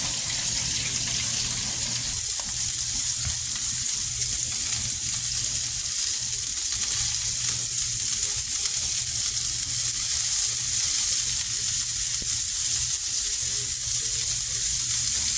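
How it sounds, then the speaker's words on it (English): Home fries potatoes dropped into hot oil and frying, a loud, continuous bubbling sizzle that holds steady throughout with no voices. "we're just going to drop these guys in. And we're going to let those cook for about 7 minutes"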